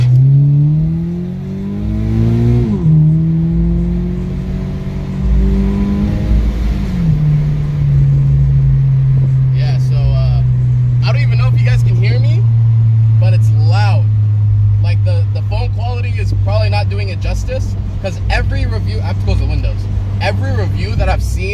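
A Subaru BRZ with an Invidia N1 catback exhaust and titanium tips revs up and drops back, then settles into a deep, loud rumbling idle, with clicks and rattles layered over the top.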